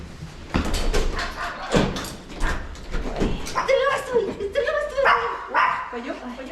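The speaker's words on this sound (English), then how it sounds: "Mom has a dog now." A dog barks and yips in short bursts at a homecoming, mixed with lively overlapping talk and greetings indoors; the barks stand out near the end over the voices.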